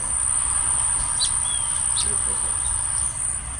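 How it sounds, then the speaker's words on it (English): A steady high-pitched insect drone fills the background, with a few faint, brief bird chirps scattered on top. "You hear the birds singing."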